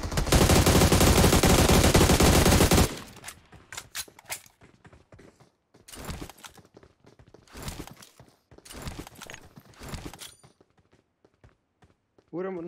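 Gunfire in a shooter video game: a dense, loud burst of rapid automatic fire at the start, then scattered single and short clustered shots, with footsteps and brief voices in between.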